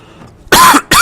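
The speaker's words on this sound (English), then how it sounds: "Excuse my coughing." Two sharp, close coughs in quick succession break out after a brief quiet moment, loud and harsh.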